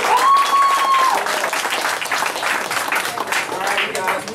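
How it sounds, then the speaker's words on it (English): A round of applause from the crowd at the Lake Tuskegee fishing derby awards honors the participants, a dense and steady clatter of hands with some voices mixed in, lasting a few seconds. "let's give the participants a round of applause"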